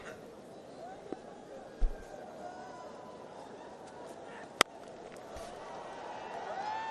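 Stadium crowd at a T10 cricket match in Abu Dhabi, a steady distant murmur and babble that swells slightly, broken by a few short thumps and one sharp crack.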